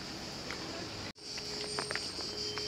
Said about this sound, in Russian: Вовсю слышен шум цикад.